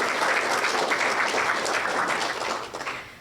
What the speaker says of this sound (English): A round of applause to these guys.